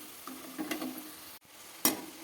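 Boiled chicken fries in a pan with a soft, steady sizzle, broken by a few light scrapes of stirring and a sharper clatter near the end.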